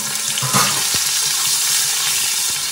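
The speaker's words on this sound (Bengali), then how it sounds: "এবার আমি উচ্ছেগুলো একটু লাল লাল করে কিন্তু ভেজে নেব।" Bitter gourd frying in oil until reddish brown, a dense steady sizzle with a few stirring clinks and scrapes, close and fairly loud throughout.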